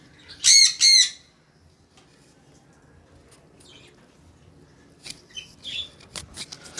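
Pet birds kept in a cage squawk twice in loud, shrill bursts near the start as they are given fruit, followed by quieter chirps and small rustling sounds toward the end.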